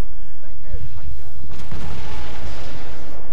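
Gunfire and booming explosions in the video game Battlefield 1943, loud dense heavy blasts and rumble filling the short clip, clipped and overloaded.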